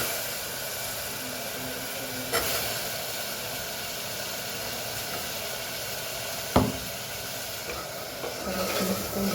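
Potatoes go into a hot pan with spices and fry in a continuous close sizzle, with a couple of sharp clunks from the pan and stirring along the way.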